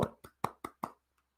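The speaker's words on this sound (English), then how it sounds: "So I'll do golf claps for Bitcoin" A few soft, quiet golf claps sound up close, five spaced hand claps in an even rhythm before fading to silence.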